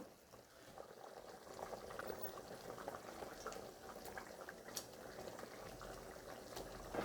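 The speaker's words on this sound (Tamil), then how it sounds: "குழம்பு நல்லா கொதிக்குது" Crab curry with tamarind bubbling steadily in a pot, a continuous soft gurgling and popping with occasional sharper bubble bursts, close and moderately loud, no voices.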